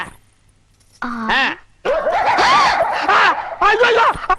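Dogs bark and yip in short, loud bursts close by, interspersed with excited human voices talking over them after a brief quiet start.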